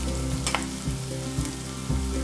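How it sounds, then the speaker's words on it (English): Onions roasting in a pan with turmeric and Kashmiri red chili powder crackle and sizzle steadily, with soft rhythmic scrapes and thumps of a spoon stirring every half second or so. "Roast till onion starts to turn golden in color"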